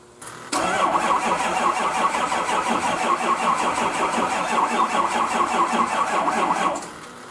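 A car engine, boosted by a battery charger and a tied-in second battery, cranks briefly and catches, then runs steadily at a loud, close idle for several seconds before cutting off.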